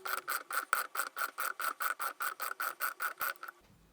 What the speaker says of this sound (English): the ratchet part works. It's a big ratchet like you would expect